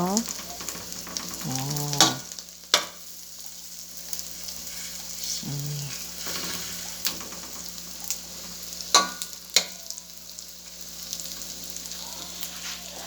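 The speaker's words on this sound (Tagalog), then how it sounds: "tignan mo nagmamantika na yung lechon" Lechon kawali fries in its own rendered pork fat for adobong sitaw, a continuous sizzle broken by sharp clinks and scrapes of stirring.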